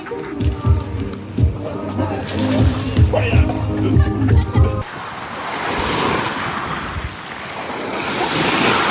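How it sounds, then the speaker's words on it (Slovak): Strong wind roars over the microphone and surf on a seaside holiday. Gusty rushing noise dominates the second half, with voices and music heard briefly before it. "Fúkaj dneska vietor. Docela dosť."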